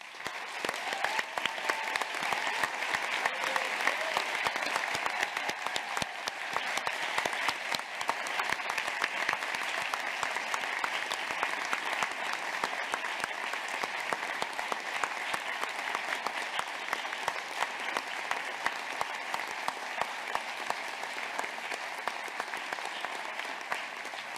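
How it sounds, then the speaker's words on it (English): Sustained applause from a large audience at a university ceremony honoring students, steady clapping that fills the room without pause for over twenty seconds. "Students, please stand so we can applaud your achievements."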